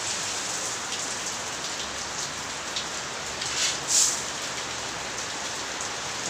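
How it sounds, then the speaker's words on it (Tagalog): Steady heavy storm rain pours down in a dense, continuous hiss, with a brief louder splash of drops partway through and no talking. "Umuulan."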